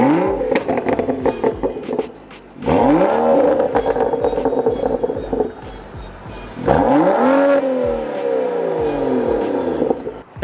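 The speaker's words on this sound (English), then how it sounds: "she sounds insane. It sounds like a jet engine." A tuned BMW 335i with the N55 turbo engine, a race intercooler, an MHD tune and a transmission flash accelerates hard in three loud pulls, each rising in pitch through the gears, with brief gaps at the shifts.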